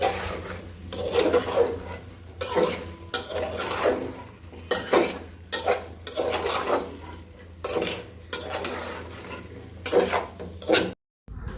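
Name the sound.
stirring potatoes in a cooking pot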